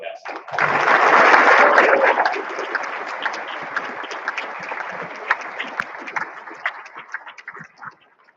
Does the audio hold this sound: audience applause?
yes